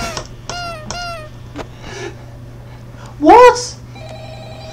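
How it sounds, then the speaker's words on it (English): A telephone in the horror video game Five Nights at Freddy's rings in a quick series of repeated electronic tones. A player's voice then cuts in loudly over it. "The phone's still ringing."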